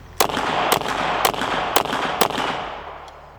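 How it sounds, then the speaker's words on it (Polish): Five evenly spaced pistol shots from a Canik TP9 SFx Rival-S at a shooting range, sharp loud close cracks about half a second apart with a brief echoing tail. "ładujemy pierwszy magazynek i sprawdzamy jak broń zachowuje się podczas strzału"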